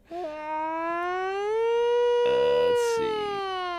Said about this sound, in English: That's my siren.